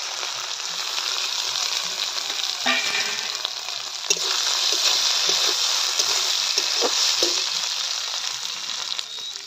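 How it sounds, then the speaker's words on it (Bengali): Beans and carrots dropped into a hot frying pan with spiced oil, giving a steady, loud close sizzle with a few soft stirring clatters partway through and no talking. "এবার বিনস আর গাজরটা ভেজে রেখেছিলাম, এটা দিয়ে দিলাম।"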